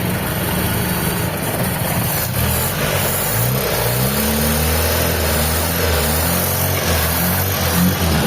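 A freshly overhauled Mitsubishi Lancer EL engine runs steadily and close, with a continuous mid-pitched drone and slight rises in pitch as it revs a little, no talking over it.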